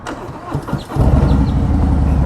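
A Harley-Davidson Road Glide motorcycle cranks over with a few quick starter whirs, then catches and settles into a loud, close, rumbling idle.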